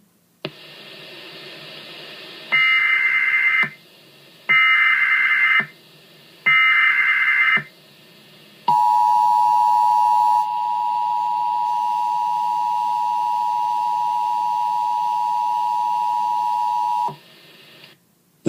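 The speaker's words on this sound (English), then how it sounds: "This is the coordinated monthly test of the emergency alert system, originating from the EAS local primary station for the Go Animate City area." Emergency Alert System monthly test tones: three loud buzzy data bursts spaced about two seconds apart, then a long steady attention tone lasting roughly eight seconds, with no voice over it.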